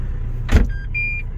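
A Renault Espace 4 with its door open gives a chime alert: a thump is followed by a few thin, high, steady beeps of differing lengths, quiet over a low engine hum, with no talking.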